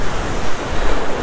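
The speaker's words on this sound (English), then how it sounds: "It's hard with waves like this." Ocean waves surge and break steadily on a shore during surf fishing for striped bass, a loud continuous wash of surf with wind noise buffeting the microphone and no talking.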